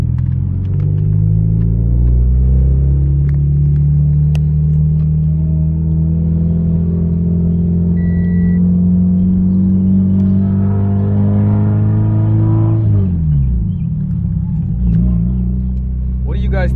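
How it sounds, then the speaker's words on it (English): A Scion FR-S / Subaru BRZ / Toyota 86 being driven, its engine a steady low rumble that climbs in pitch under acceleration, then drops sharply near the end as the revs fall, loud and close throughout. "I'm gonna start driving and see what happens."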